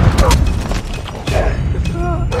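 A grenade bursts in Call of Duty Mobile with a loud, deep boom, followed by rumbling debris and gunfire-like crackle, while shouted voice callouts sound over the action.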